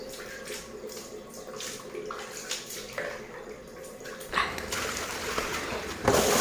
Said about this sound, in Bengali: দেখো চিকেনটা একটু ভালো করে ধুয়ে নিই